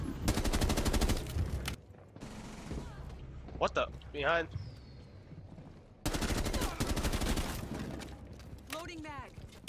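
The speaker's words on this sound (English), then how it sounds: "All this gunfire." Rapid automatic gunfire in Rainbow Six Siege, loud bursts at the start and end with quieter shots in between, while players talk over the action.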